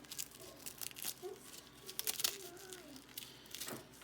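A knife cuts collard greens held between the fingers, giving faint, irregular crisp tearing and crinkling sounds with short rustling bursts in a quiet room.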